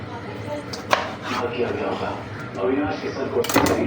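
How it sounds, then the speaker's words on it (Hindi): Fresh tomatoes being cut with a knife for tomato puree, a few sharp chopping knocks against a board amid kitchen clatter, close, with someone talking over it. "सारे को इसी तरह से हम काट के रखेंगे"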